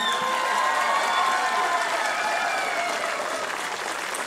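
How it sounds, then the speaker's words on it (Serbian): A concert audience in the Trg Partizana town square in Užice claps steadily, a dense, even wash of applause from a large crowd with a few faint shouts. "jedan aplauz"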